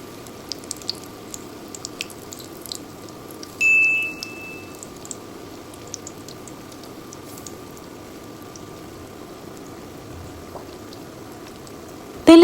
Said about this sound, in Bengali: তেল মাঝারি গরম হলেই বেগুনের টুকরোগুলো বেসনের গুলার মধ্যে ডুবিয়ে আস্তে আস্তে করে তেলের মধ্যে ছেড়ে দিচ্ছি